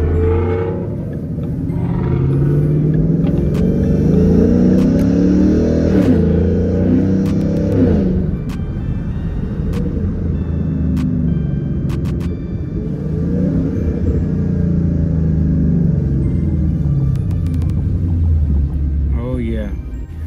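A 2011 Ford Mustang GT with an automatic transmission driving in sport mode, its engine rumble and road noise steady and loud throughout, with brief rises in revs and people talking over it inside the cabin.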